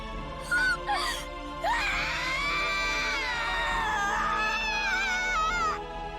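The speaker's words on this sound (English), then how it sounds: "Blood-curdling scream." A shrill, blood-curdling scream with wavering pitch, near and loud, from the visual novel game Umineko When They Cry, preceded by a couple of short cries and sustained for several seconds.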